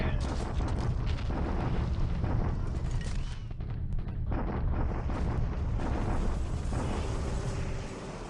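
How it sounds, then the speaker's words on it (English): Continuous heavy explosions from a naval bombardment of a coastal position in a World War II strategy game, dense rumbling booms overlapping throughout, loud and unbroken, with faint talk in the background. "Now it's our turn to bombard at Clark."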